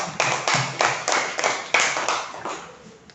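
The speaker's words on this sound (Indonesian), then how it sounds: "Tepuk tangan untuk Aurel." A classroom of young primary school pupils claps together for a classmate in a quick run of about eight sharp, close claps. The claps trail off after a few seconds.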